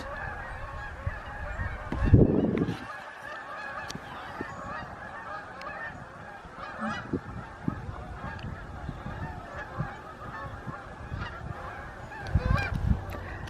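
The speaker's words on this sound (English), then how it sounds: "Boy, those geese are loud." Loud geese honk repeatedly from close by, a noisy overlapping flock calling in bursts, with louder clusters near the start and end.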